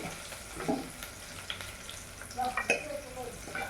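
Greens sautéing in a pan with a low, continuous sizzle, broken by intermittent light stirring and scraping sounds at close range.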